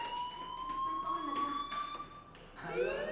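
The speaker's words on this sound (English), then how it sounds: "do you hear that fire alarm?" A fire alarm rings in a school hallway in the Life Is Strange video game, a steady high electronic tone sounding continuously at moderate distance. Voices talk faintly underneath it.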